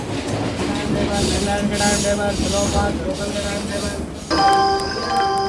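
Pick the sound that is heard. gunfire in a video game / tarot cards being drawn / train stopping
train stopping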